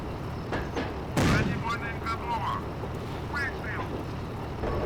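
In the Steel Fury tank game, a T-50's cannon fires at an enemy tank, producing one loud, booming shot over steady engine rumble, with someone talking throughout.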